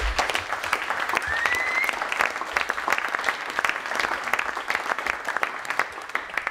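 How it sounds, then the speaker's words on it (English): Audience at a CouchDB Day 2015 conference talk breaks into sustained applause, a dense steady wash of many hands clapping that continues throughout. "Please give him a warm applause."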